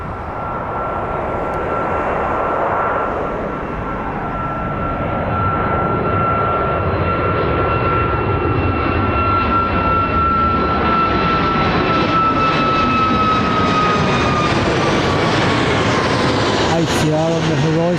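An ATR turboprop airliner at Birmingham Airport gives a loud, steady engine drone with a sustained tonal whine that slowly shifts pitch as it passes. The roar holds for the full length, and voices talk faintly beneath it.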